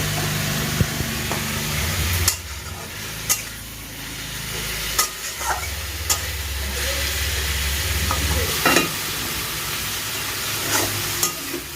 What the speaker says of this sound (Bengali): পেঁয়াজটা আমার অল্প ভাজা ভাজা হয়ে গেছে